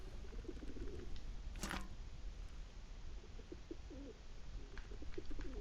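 Pigeons cooing in the video game Whateverland, soft repeated coos over a steady ambient background, with one brief bright burst partway through; moderately faint.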